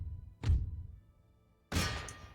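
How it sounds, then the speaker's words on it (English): Cannon fire in the strategy game Empire: Total War, two heavy booming shots about a second apart, each a sharp thud with a rumbling decay, loud and close without speech. "Yeah, the other cannons have joined in."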